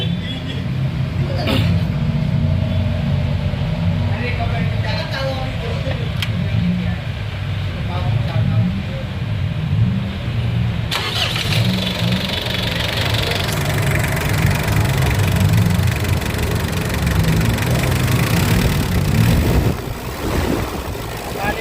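A car engine idles steadily with a loud whirring fan rising partway through, a voice speaking briefly over the running motor.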